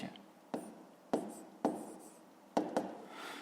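Pen or pencil scratches on paper while a math solution is written out by hand, several short close strokes with quiet gaps between them.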